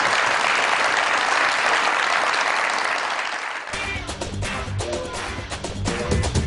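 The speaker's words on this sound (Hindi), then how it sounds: "बहुत सारी तालियां जी सोहेल तनवीर साहब के लिए।" Studio audience applause on a comedy show, steady and full for a few seconds before thinning into scattered claps as music and other sounds come in.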